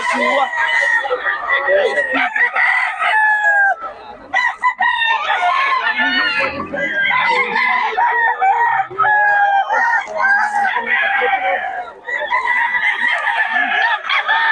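Roosters crow loudly and repeatedly, their calls overlapping almost continuously, with people's voices mixed in the busy background.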